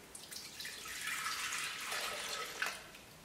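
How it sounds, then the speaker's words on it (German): A steady stream of milk, 400 grams, pours into a Thermomix TM5/TM6 mixing bowl fitted with the butterfly whisk attachment. A soft continuous splashing hiss lasts about three seconds, close by, with no talking. "400 Gramm Milch in den Mixtopf geben"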